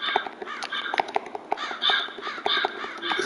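Repeated harsh caws from a crow in a cheap shadow-themed video game, a rapid run of calls at close range with faint clicks in the background.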